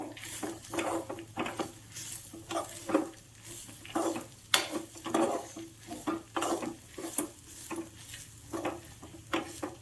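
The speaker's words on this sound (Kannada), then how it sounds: "ಈಗ ಇದನ್ನು ಚೆನ್ನಾಗಿ ಹುರ್ಕೊಳ್ಬೇಕು" Brinjal powder curry with turmeric is stirred and roasted in a pan, a spoon scraping in quick repeated strokes over a soft dry sizzle, close and fairly even, with no talking.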